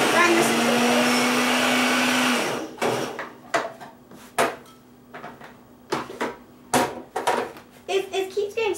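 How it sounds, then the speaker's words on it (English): A food processor grinds salmon into a paste with a loud, continuous whirring buzz for over two seconds, then stops, followed by scattered clatters and knocks of the bowl and lid nearby. "So now I'm going to grind this into a paste."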